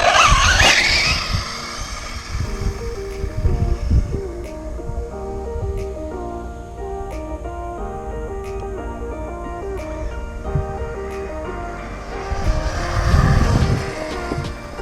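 An Arrma Talion EXB 6S RC car on a 4S battery makes a full-throttle speed run. Its electric motor gives a loud, steady high whine with tire and gravel rush, louder near the start and end as it passes close.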